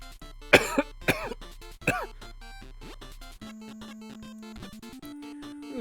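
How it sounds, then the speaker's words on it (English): A burst of several harsh, close coughs in quick succession, followed by quieter throat sounds and a steady tone. "I'm just coughing up diseases."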